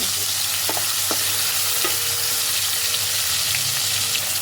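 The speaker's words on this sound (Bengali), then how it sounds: "এটাকেও এবার তেলের মধ্যে বেশ খানিকক্ষণ নাড়াচাড়া করে তেলের মধ্যে নাড়াচাড়া করে নিয়ে ভালোভাবে মিশিয়ে নেব" Chopped tomato is stirred in hot oil for a lau ghonto made with katla fish head, a loud steady sizzle close by with occasional light spoon taps against the pan, and no speech.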